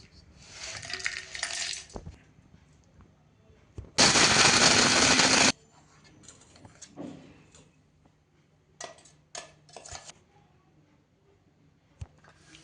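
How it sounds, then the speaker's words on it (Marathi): An electric kitchen mixer grinding roasted pav bhaji masala spices whirs in one loud burst of about a second and a half, framed by faint clinks and rattles of the jar and utensils in a quiet kitchen. "आता ते गार झालं की आपण मिक्सरमध्ये बारीक करून घेऊया"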